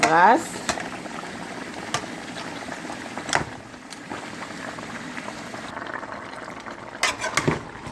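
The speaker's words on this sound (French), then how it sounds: "Là, je vais brasser encore. Là, j'ai mis mon pâte de tomate. Je brasse." Tomato-paste sauce being stirred in a pot: a steady low bubbling simmer with occasional scraping and clinking taps of the spoon against the pot, under a person talking in French.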